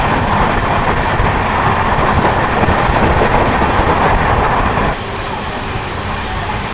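A passenger train on the Vizag to Araku line runs steadily, with a loud, continuous rolling rumble and rail clatter that holds constant throughout, dropping slightly in level near the end.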